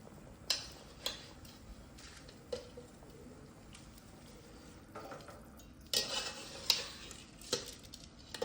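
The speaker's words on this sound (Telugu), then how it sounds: "ముందే కడిగి పెట్టుకున్న బియ్యం వేసుకోవాలి దీంట్లో." Pre-washed rice goes into a pot of Hyderabadi dum chicken biryani, heard as faint scattered clinks and ticks of a spoon against the pot over a low sizzle, with a denser clattering stretch near the end and no talk.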